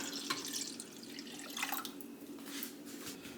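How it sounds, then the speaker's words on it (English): A can of water pours into a pot of tomato sauce for vegan stuffed cabbage, giving close, gentle splashing and trickling with a few drips, steady and moderately quiet. "In goes our can of water."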